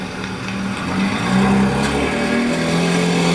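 A car engine revs loudly up close with steady exhaust drone, the pitch sliding and rising through gear-like steps over a few seconds.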